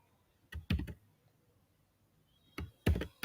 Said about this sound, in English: here I will type HTML